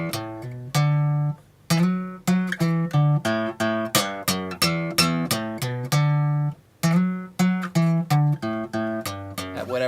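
A guitar phrase played alone as a rapid run of clear, picked notes in a steady rhythm, with a sliding gliss connecting some of them and a couple of brief pauses.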